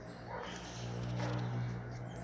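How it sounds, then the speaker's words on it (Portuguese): Two-month-old pitbull puppies give soft whimpers and yips over a loud, steady low hum, faint and fairly close, without speech. "Tá os pitbull do canalzinho aqui, ó."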